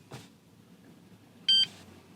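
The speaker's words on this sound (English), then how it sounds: "Turn the ignition off. Easy installer will beep." A key-programming installer for a 2008–2012 Honda Accord gives a brief electronic beep, preceded by a faint click, in an otherwise quiet car interior.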